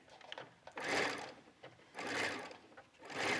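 A sewing machine runs a quarter-inch seam on a restyled tee shirt in three close bursts of steady whirring stitching, with brief pauses between runs.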